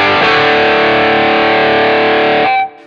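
Electric guitar with a humbucker pickup played through a mini Tube Screamer overdrive pedal with the distortion turned up, one loud sustained chord ringing for about two and a half seconds before it is cut off abruptly.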